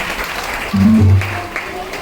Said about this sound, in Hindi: तो जोरदार तालियां लोखंडे साहब के इस प्रयास के लिए